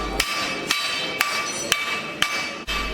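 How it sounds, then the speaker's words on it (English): A blacksmith's ball peen hammer strikes hot metal on an anvil six times in an even rhythm, each sharp ringing blow close and loud, with no talking. "a final hammer swap to his own personal ball peen"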